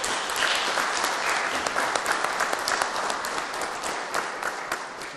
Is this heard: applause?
yes